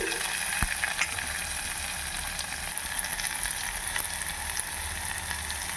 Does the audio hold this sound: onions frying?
yes